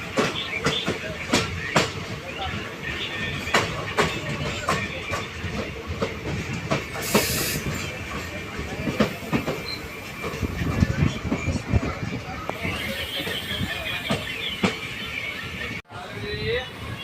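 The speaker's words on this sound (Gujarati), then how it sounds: "આપડે ટ્રેન નીકળી ચુકી છે વડાલ સ્ટેશનથી" A passenger train pulls away from small Vadal station on the Dhola to Veraval run, its wheels clattering and the carriage rumbling continuously, with voices and cabin noise mixed in throughout.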